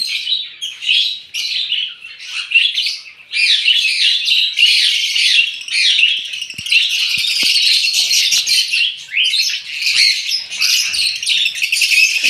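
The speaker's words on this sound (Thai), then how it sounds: "ช่วงเช้าๆ เสียงนกจะดังมากเพราะว่า น้องนก ขออาหารค่ะ" A cluster of young birds chirps insistently and shrilly, a dense, high-pitched begging chorus close by with brief pauses and a few soft knocks.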